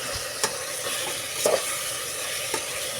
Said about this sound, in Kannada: ಕಸೂರು ಮೆಂತಿ ಹಾಕ್ಕೊಂಡೋಗ್ತೀವಿ ಹಾಕ್ಕೊಂಡು ಇದನ್ನು ನಾವು ಮಿಕ್ಸ್ ಮಾಡ್ಕೊಳ್ಳೋಣ